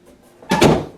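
A door swings open or shut in a room, a single soft thud with a brief rattle, moderately close and heard alone.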